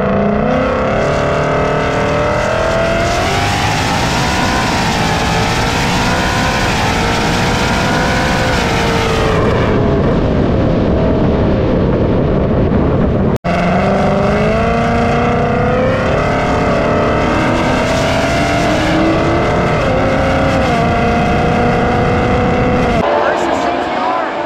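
A 1000hp ESS G3x-supercharged Ford Mustang races an Audi RS3, loud engines revving and climbing through gears in two long pulls with shifts between, wind noise over them and a voice talking.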